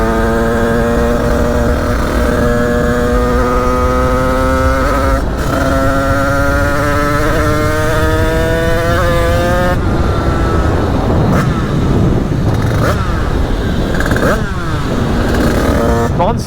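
A Honda HM 86 two-stroke motorcycle with an aluminium top end runs close by, its loud buzzing engine note climbing steadily under throttle, then breaking into sharp, repeated revs and blips.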